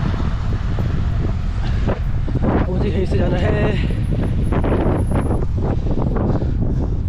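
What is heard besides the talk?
strong wind while cycling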